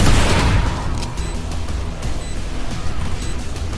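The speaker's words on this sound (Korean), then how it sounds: "수류탄" A grenade blast in the tactical shooter Valorant, a loud booming burst at the very start that rumbles and fades into scattered game noise.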